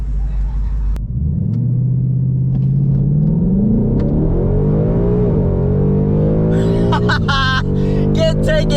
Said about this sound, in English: We're gonna see about doing a burnout.